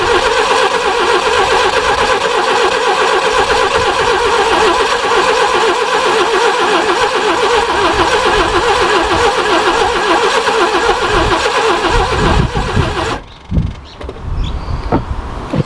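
An old Subaru Brumby ute with suspect dirty spark plugs cranks steadily for a long stretch under a loud starter whine, then stumbles and catches briefly near the end.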